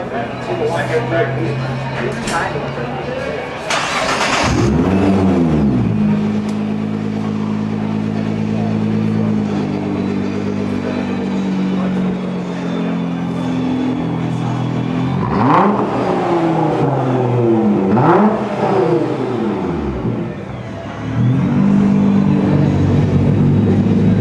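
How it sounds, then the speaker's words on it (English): A Nissan GT-R with an aftermarket exhaust revs repeatedly at a car show, a deep, throaty exhaust roar rising and falling in several sharp bursts and holding a loud idle between. "That's the aftermarket exhaust."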